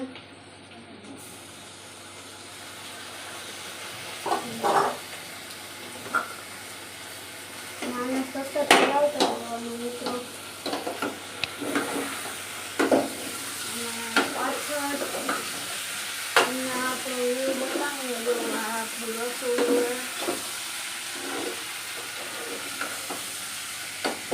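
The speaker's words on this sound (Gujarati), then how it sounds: "હવે ટમેટા આપણે નાખીએ" Tomatoes tipped into a pan of green turmeric curry and stirred, giving a steady sizzle and frying hiss with repeated scraping stir strokes and occasional utensil clinks against the pot, with faint voices in the background.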